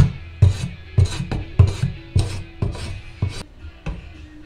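A drawknife pulled backwards along a wooden sledgehammer handle gives rough rasping scrapes, about eight strokes in an even rhythm, close and loud.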